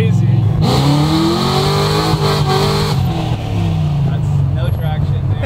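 A supercharged 1969 Chevelle revs hard while its wheels spin without traction, a loud, close engine roar with rising and falling pitch sweeps, and people talk over it.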